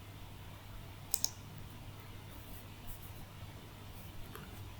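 A single mouse click, a quick double tick, lands on a send-OTP button during an online registration form, faint and close against a low steady hum with no talk.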